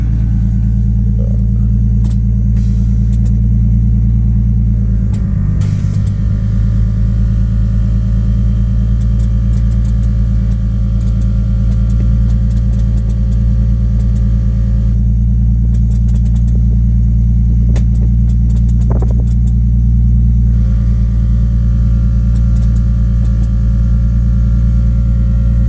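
A van or SUV engine running after a cold start, a loud steady rumbling idle with a few revs near the start, close and continuous throughout with no talk.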